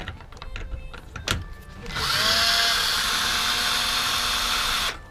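A power drill spins up and whines steadily for about three seconds while removing a bolt from the front bumper of a 2016-2024 Chevrolet Camaro SS, loud and close, preceded by clicks and handling noises.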